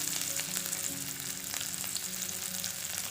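Chopped onion hits hot oil in a wok and fries with a continuous, even hiss and spatter, heard up close and alone.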